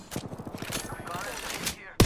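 Rapid automatic gunfire in the video game Apex Legends, a quick rattling burst of closely spaced shots that is fairly close and moderately loud, followed by quieter game sounds and a sharp loud crack at the very end.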